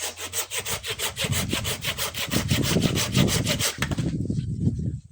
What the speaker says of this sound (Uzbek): Arra urganda bunday olib keling.